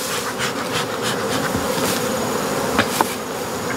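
Honey bees buzz densely around an open hive colony during a split, a steady close swarm drone with a couple of faint knocks in the background.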